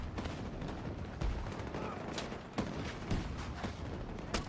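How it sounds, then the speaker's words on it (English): Battlefield game combat: scattered explosions and bursts of gunfire crack out every second or so over a rumbling, noisy battle background. "Random explosions."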